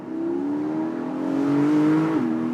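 A Porsche 718 GTS 4.0 mid-engine two-seater with a flat-six, revving with a smooth rising engine note that climbs and then drops slightly, heard steadily and fairly close without talk.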